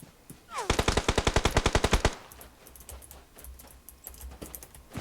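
Rapid automatic gunfire in PUBG Mobile, a burst of about fifteen evenly spaced loud shots lasting under two seconds, followed by quieter game ambience.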